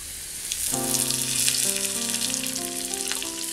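Curry leaves and onion frying in coconut oil for a green peppercorn chicken curry, a continuous close sizzle and crackle under a gentle background tune, no voices.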